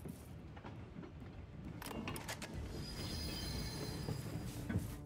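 A train rolls past in the video game VoidTrain, its steady rumble building and holding with high metallic wheel squeal and rattling carriage noise, fairly close and without talk.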